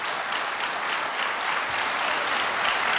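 A television studio audience claps steadily throughout, a dense, even wash of applause with no break.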